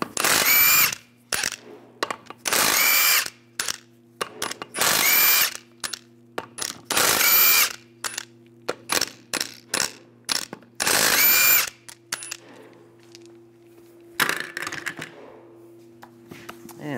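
Power impact tool with a 19 mm socket removing lug nuts from a 1995-2001 Ford Explorer wheel, in loud repeated bursts of whirring and rattling with short pauses between, plus quieter clicks near the end over a steady hum.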